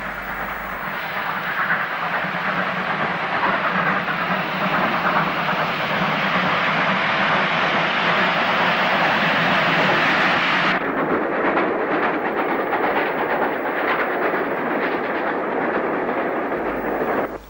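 Steam locomotive 5057 Earl Waldegrave pulls a train out of Worcester on a winter day, a broad steady rumble and hiss of the engine and rolling stock, fairly distant and continuous.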